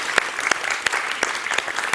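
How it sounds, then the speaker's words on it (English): An audience at an Ars Electronica night performance applauds, with steady, dense clapping from a crowd throughout and a few sharper individual claps standing out. "please applaud for Christine Schöpf as being here"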